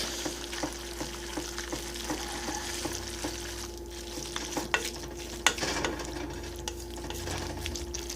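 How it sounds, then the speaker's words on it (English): Macaroni and cheese being stirred in a pot, a steady soft scraping and squelching with occasional louder clinks of the utensil against the pot, close up with no talk. "stir it up"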